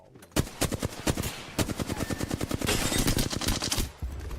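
Gunfire in a video game, loud close automatic bursts of evenly spaced rapid shots, broken by brief pauses and resuming in a steady rattling stream.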